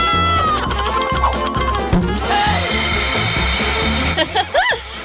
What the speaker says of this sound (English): This vacuum will eat all the worms fast.